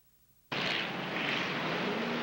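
At Rockford Speedway, a pack of race cars comes out of turn four under the green flag. A sudden, loud roar of engines bursts in and holds as a dense, sustained wall of sound, with no talking.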